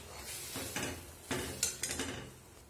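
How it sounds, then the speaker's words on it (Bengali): A spoon scrapes and clinks quietly against a wok of milk simmering with bay leaf and two cardamom pods over lowered gas. A few separate stirring strokes sound close by, with no talking. "একটু নেড়ে দিচ্ছি।"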